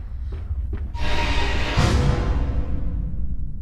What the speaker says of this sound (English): That's the sound of the door closing behind me